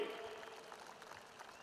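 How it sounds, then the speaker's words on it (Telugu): Applause from a gathered audience at a Telugu devotional TV channel event, a brief dense patter of many clapping hands at moderate distance, fairly soft and steady. "మీరు కూడా గట్టిగా చప్పట్లు కొట్టి ఆశీర్వదించమని"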